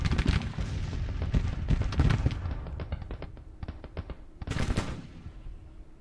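Artillery and musket fire from a Civil War strategy game, Grand Tactician: The Civil War, sounding as a dense, continuous crackle of gunshots with repeated sharp reports and a louder burst near the end.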